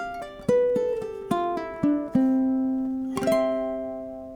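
A brief ukulele fingerpicked ending phrase: a handful of plucked notes with slides, then a final strummed chord left ringing out.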